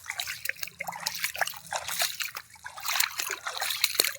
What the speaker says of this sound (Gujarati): તો મિત્રો હવે પાણીનો ક્યારો ભરાઈ ગયો.